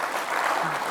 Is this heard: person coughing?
no